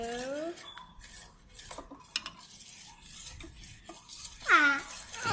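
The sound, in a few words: stirring slime mixture in a bowl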